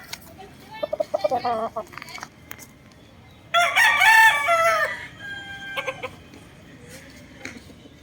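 A broodcock rooster crows loudly and nearby, with a shorter call before it and faint clucks and bird calls afterward.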